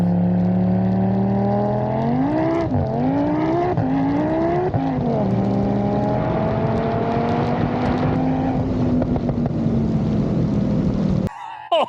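A 1000-horsepower Audi RS3 roars loudly as it drifts fully sideways at a Speed Demons roll racing event, its engine note climbing and wavering for about eleven seconds before cutting off abruptly.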